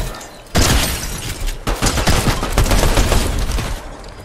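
Sustained automatic gunfire erupts in a Fortnite-style battle royale match, a sudden loud onset followed by dense rapid bursts and sharp cracks with brief breaks, continuing steadily to the end with no talking.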